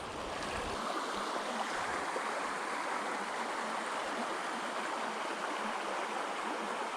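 Small Oregon creek flowing close by, with a steady, full rush of water that continues without a break and has no voices.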